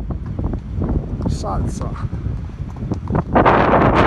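Strong wind buffets the microphone on a high mountain ascent of Monte Mongioia, a steady loud rushing and rumbling throughout, with a person talking over it and a brief burst of gusty noise near the end.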